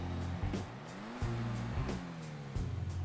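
An Annis S80RR sports car in the GTA 5 video game drives along a city street, its engine note rising and shifting through several gear changes, loud and steady with no talk over it.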